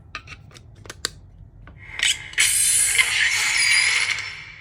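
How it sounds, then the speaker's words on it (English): Michael S. Darkness V3 lightsaber with CFX board powering on: a few faint clicks, then a bright, rising electronic boot tone that swells and sustains for a couple of seconds, close and alone. "You get a boot sound when the Saber gets power."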